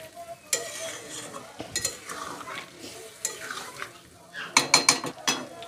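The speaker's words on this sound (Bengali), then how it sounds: "পনিরের মধ্যে আমি দিয়ে দেবো, দিয়ে আর একটু নাড়াচাড়া করব" A spoon stirs a paneer mix in a pan, producing close, loud scraping and clinking strokes in uneven bursts over a light sizzle, with a quick run of rapid clatters near the end.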